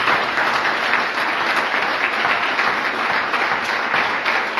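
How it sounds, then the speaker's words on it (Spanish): A church congregation gives a strong round of applause for Valeria and her sister, sustained, dense clapping from many hands that stays loud and even throughout, with no speech over it. "yo quiero que usted le dé un fuerte aplauso,"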